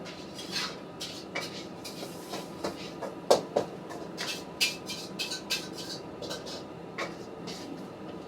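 Busy restaurant kitchen in a Bangkok noodle shop, with scattered clinks and clatters of dishes, pots and utensils, sharp close knocks over a soft background hum.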